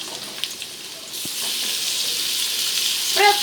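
Chopped onions sizzle in hot oil in a pan as tomato goes in, a steady bright hiss that swells in the second half, with a few soft clinks and stirring noises near the start and end.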